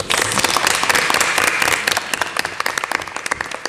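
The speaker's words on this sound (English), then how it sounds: "Can we give Ms. Hewitt a massive round of applause?" A roomful of young people clapping at a London Youth Assembly gathering, a dense wash of applause that gradually thins into separate, crisp claps as it tapers off.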